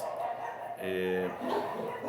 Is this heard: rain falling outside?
no